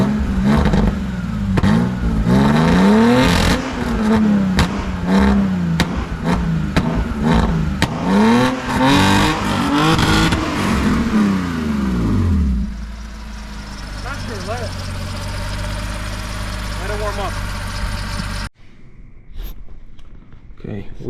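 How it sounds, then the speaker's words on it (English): A BMW drift car's engine revs hard in repeated rising and falling sweeps, loud and close, then settles into a rough steady idle, with a brief drop near the end and talk over parts. "Sounds like a Beamer, all right."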